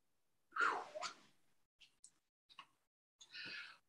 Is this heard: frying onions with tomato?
no